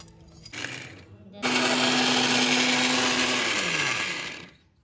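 A mixer grinder jar whirs loudly as it grinds dried mango into aamchur powder, a steady high roar of about three seconds that then winds down, after a softer short start.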